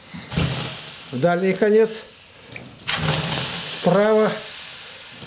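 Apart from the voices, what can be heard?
water splashed into hot Russian stove oven, hissing steam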